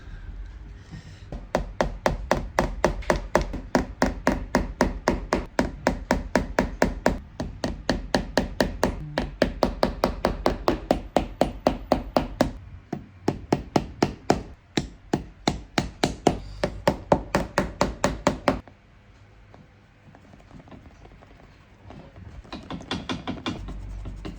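Brass tacks being hammered into a shoe to spell initials at a cobbler's workshop: a long run of steady, close, rhythmic sharp taps that stops abruptly, followed by quieter bench handling noise.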